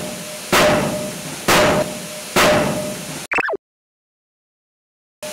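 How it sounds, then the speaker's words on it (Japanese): A forging press trimming the excess flash off a hot forged steel tool blank: three heavy, evenly spaced booming strikes with ringing decay, then a sharp metallic clank and sudden silence. "この工程ではバリを取り除いて製品部分だけ残します。"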